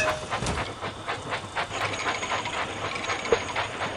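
Toy steam engine from the Thomas and Friends Minis video game, a loud, steady hiss of steam with faint rhythmic chugging and rail clatter running continuously, with no voices over it.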